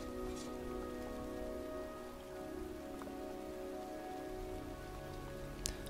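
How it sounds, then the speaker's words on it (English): Steady rain falls over a cemetery in Heavy Rain, a dense continuous patter that stays even and fairly loud throughout, with a few sharper drips near the end and no voices. "It's cold. Rain. It's raining. I'm standing outside getting soaked."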